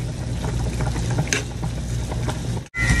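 Ground beef cooks in a pan with a steady close sizzle and soft bubbling, interrupted by a brief cut near the end.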